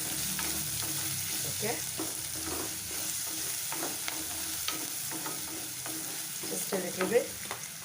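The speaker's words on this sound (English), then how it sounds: "Just let the garlic get cooked and the onions, let it be translucent." Garlic and onions sizzle steadily in a pan while a utensil stirs and scrapes through them, with a brief quiet voice speaking near the end.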